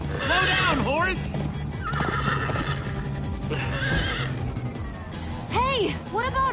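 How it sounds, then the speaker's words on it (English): Horses in the Minecraft Story Mode video game neigh loudly and repeatedly over steady galloping hoofbeats, with game characters talking throughout. "Slow down, horse!"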